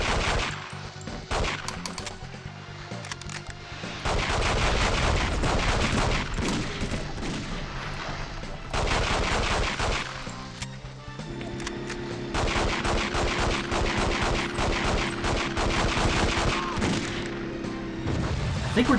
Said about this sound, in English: I also think we're better off just sticking with the pistol here and spamming shots